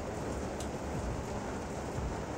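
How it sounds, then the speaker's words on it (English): Steady rain pours outside a carport on an evening of all-day downpour, a dense, even hiss filling the whole stretch, moderately loud with no breaks and no voices. "as you can see, it's raining"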